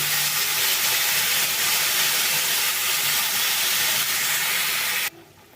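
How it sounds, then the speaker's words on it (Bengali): Water hits a hot pan of frying kachki fish for a Bengali chorchori, making a loud, steady, close hiss and sizzle that runs for several seconds and then drops off abruptly. "এর মধ্যে দিয়ে দেব দুই কাপ পরিমাণ জল"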